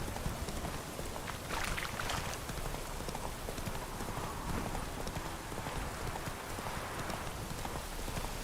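Hoofbeats of Roach, Geralt's horse in The Witcher 3: Wild Hunt, thud in a steady galloping rhythm, even and continuous at moderate volume.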